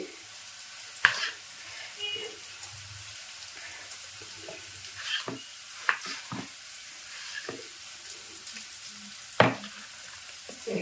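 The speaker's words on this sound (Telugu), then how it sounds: "ఉల్లిపాయలు చక్కగా ఇట్లా ఈ విధంగా వేగిపోవాలన్నమాట" Onions frying in a pan in a home kitchen, a steady soft sizzle with occasional sharp clinks and scrapes of stirring, close and moderately quiet with no talking.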